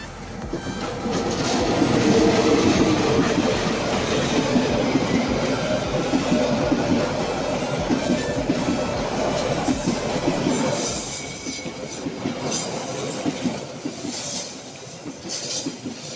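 A passenger train on the Serayu night service passing Jatinegara station in Indonesia, rumbling steadily along the rails, a continuous loud roar with rhythmic clacking and occasional high wheel squeal, heard from close by.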